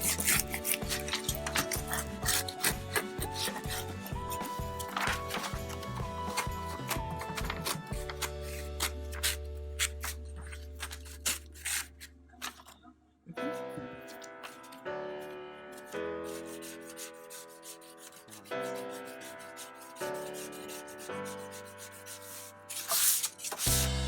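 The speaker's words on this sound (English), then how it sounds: "you can give it a light hand sand" Light hand sanding of wooden wall art, a rhythmic rubbing and rasping of sandpaper over wood in quick repeated strokes, close and fairly quiet, with occasional pauses and shifts in pace.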